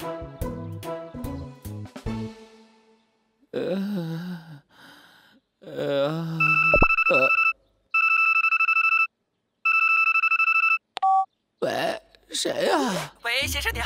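A mobile phone rings with an advertising call in the Boonie Bears jungle cartoon: three bright, loud bursts of electronic ringtone, with cartoon voices and gasps before and a voice after.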